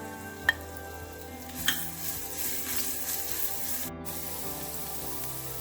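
Ginger and garlic sizzling in a tablespoon of hot coconut oil in a pan, a steady close frying hiss with a couple of sharp clinks as the ingredients are added and stirred.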